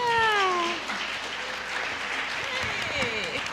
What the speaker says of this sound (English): So let's give a big cheer to all our panelists here.